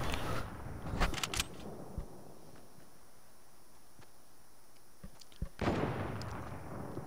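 Sniper rifle fire in the Fortnite video game: a few sharp, distant-sounding shots, with one cluster near the start and another burst later, separated by a quiet, hissy stretch.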